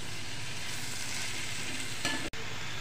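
Ginger garlic paste and chopped tomato frying in a pan for veg biryani, a dense continuous sizzle throughout with a brief clatter near the end, no voices.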